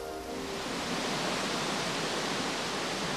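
Heavy spring water flow from a waterfall in the Smoky Mountains, a dense, steady roaring rush that stays constant and loud throughout with no voices.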